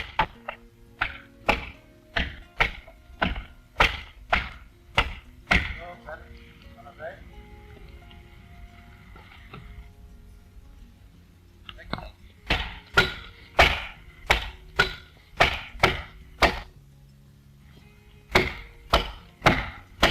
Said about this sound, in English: the first step is to notch the log